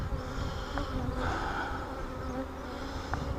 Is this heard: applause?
no